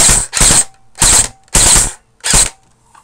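An airsoft M16 rifle fires on full automatic in five loud, close bursts of rapid mechanical rattling, separated by short silent gaps.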